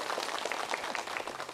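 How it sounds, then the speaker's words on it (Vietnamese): An audience at a Buddhist dharma talk in a temple gives a brief round of applause, a dense patter of many hands clapping together at moderate volume. "Chúng ta cho một tràng pháo tay nữa để cùng phân tích đoạn kinh này."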